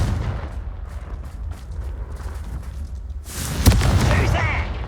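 A Confringo blast spell goes off in Hogwarts Legacy, a sudden bright burst about two-thirds through that stands out over a steady low game rumble and murmuring ambience.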